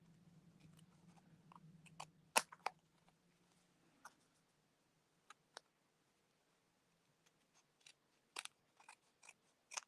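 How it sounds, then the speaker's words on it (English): Scissors trim excess cardstock for a pumpkin papercraft, producing scattered crisp snips and clicks at close range, irregularly spaced with quiet pauses and a faint low hum early on. "just trim it off with your scissors."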